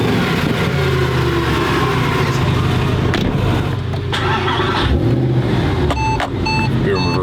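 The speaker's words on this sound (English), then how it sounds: "You hear the engine right in here. You hear it starting." A 1991 sports car engine starting and rumbling steadily at close range, low and continuous, with a brief higher tone near the end.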